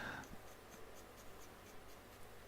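Broad-nibbed fountain pen running low on ink scratching across paper, soft rhythmic strokes close by and faint against a quiet background.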